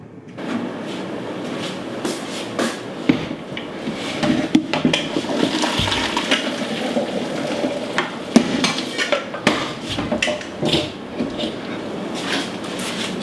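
Cooked pasta is drained, a continuous rushing pour of water into a sink with clattering pot and colander knocks throughout.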